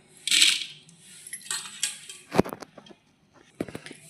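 Dal lentils for drumstick sambar tipped into a pot: a short hard rattling pour, followed by scattered clinks and knocks of grains and a utensil against metal, close and fairly quiet, with no talking.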